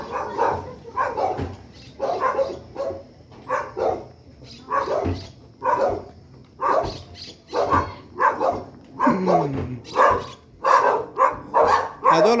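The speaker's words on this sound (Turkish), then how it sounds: "Köpek." A dog barks repeatedly in short bursts, fairly close, with a person talking intermittently between the barks.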